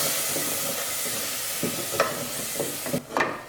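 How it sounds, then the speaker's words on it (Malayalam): Tomato paste is stirred into a sizzling white chickpea (chana) masala: a continuous frying hiss with soft spoon scrapes, then a louder burst of sizzle near the end, with no voices. "ഇനി നമുക്കിതിലേക്ക് തയ്യാറാക്കി വെച്ചിരിക്കുന്ന ടൊമാറ്റോ പേസ്റ്റ് ചേർത്ത് കൊടുക്കാം"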